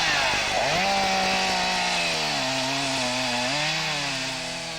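A chainsaw cutting off a rhino's horn during dehorning in the field, a loud close engine whine that drops in pitch as the blade bites in, then eases and fades slightly toward the end.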